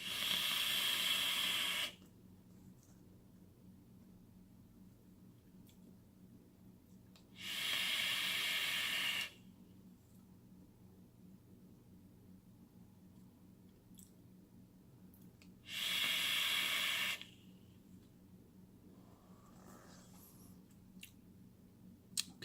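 An e-cigarette vaped at 75 watts with a 5-0 Liquids e-liquid gives three separate drawn-out hisses of about two seconds each, close and fairly loud, with long quiet gaps between them.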